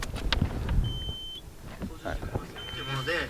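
A factory-original audio deck in a Nissan GT-R R32 emits thin electronic beeps, one sustained tone early and another later, while people talk inside the car.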